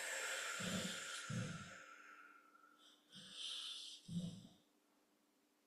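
Slow, audible breathing during a yin yoga twist: a few long, airy breaths in and out, close and soft, with quiet gaps between them and no speech.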